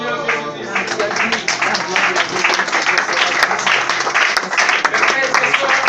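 Church congregation applauding together, a dense steady wash of many hands clapping with some voices mixed in, sustained throughout.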